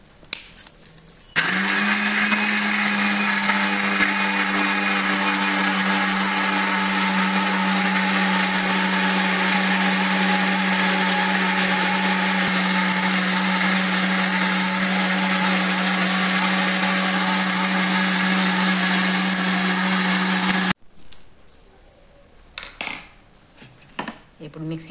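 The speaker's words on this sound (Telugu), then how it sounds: "ఇప్పుడు మిక్సీ వేసేసుకుందాం, మూత పెట్టేసుకుని" A kitchen mixer grinder blends grapes with ice cubes in a loud, steady whir that holds for about twenty seconds before cutting off, leaving faint clatter and handling noise.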